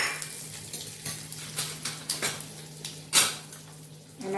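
Cumin, asafoetida and dried red chillies sizzle in hot tempering oil with a soft, steady crackle. Faint spoon stirs and clinks against the pan come through, with one sharper clatter near the end.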